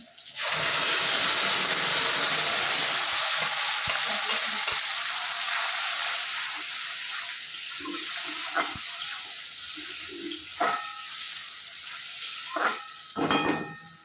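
Onion, tomato and spices fry hard in oil, a loud, close sizzle that settles to a softer hiss, with scattered clatters and scrapes from stirring toward the end.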